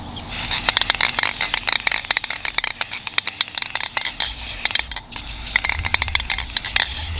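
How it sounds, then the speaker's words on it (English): Spar urethane clear sealant hisses from an aerosol spray can onto a handmade wooden boomerang, close bursts of spraying broken by brief pauses and small clicks. "So I'm just gonna spray this with the spray now."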